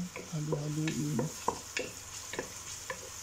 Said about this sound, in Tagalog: At saka ilunod na natin ang ating sibuyas. Halo-haluin.